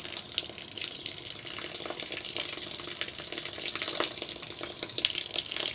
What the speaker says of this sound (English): we're just waiting for a bit of water to run through